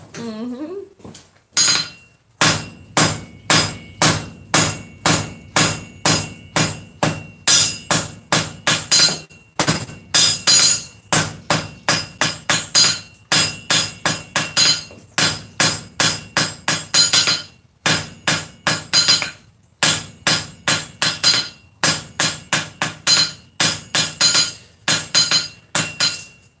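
Hammer forging metal on a stake anvil, a long run of loud ringing blows in steady bursts with short pauses, close and alone without talk.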